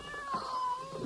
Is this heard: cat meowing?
yes